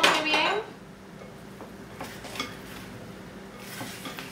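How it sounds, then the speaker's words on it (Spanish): Fruit for a trifle being mixed in a bowl: a brief clatter at the start, then soft, scattered scrapes and taps of a utensil, fairly quiet, with a faint voice in the background. "Ahora lo vamos a mezclar todo muy bien."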